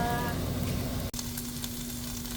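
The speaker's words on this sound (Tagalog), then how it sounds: "Malapit ng maluto yung ating beef tapa." Beef tapa fries in a pan with a soft, continuous sizzle and a low steady hum underneath, interrupted by one brief dip, with no talking.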